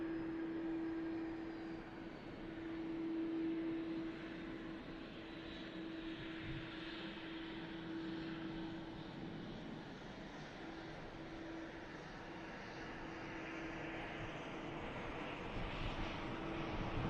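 Aircraft engines, General Electric CF6 jets, run continuously at an airport, a constant droning whine with a steady high tone, moderately distant, with no voices.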